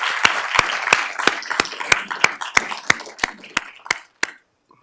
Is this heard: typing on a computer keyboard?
no